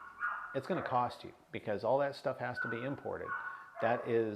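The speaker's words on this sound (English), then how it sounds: "sorry about the damn dog." A dog barks and yips intermittently in the background of a room while someone speaks continuously, the barks partly masked by his voice.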